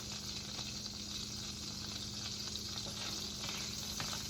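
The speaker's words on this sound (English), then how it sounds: "And let them get good and sauteed." Ingredients sautéing in a pan on a stovetop for a scratch-made soup base, giving a quiet, even sizzle with faint crackles and a low background hum throughout, no voices.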